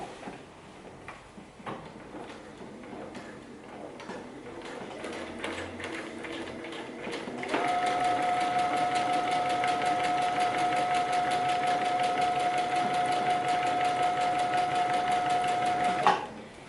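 A sewing machine stitches canvas and leather together for a tote bag; after quieter handling and shuffling, the motor starts midway and runs in a steady, rapid close-up whir for about eight seconds before stopping.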